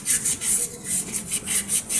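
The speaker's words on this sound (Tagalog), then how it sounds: "Lihahin ko lang po ito ng ayos." Sandpaper is rubbed back and forth over the shaft of a Sharp twin tub washing machine, giving about a dozen quick, even rasping strokes close by with no talking.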